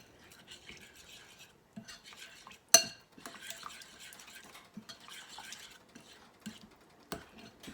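A spoon stirs clam chowder with added milk in a pot, making sparse, quiet scrapes and clinks against the metal, with one sharper knock partway through.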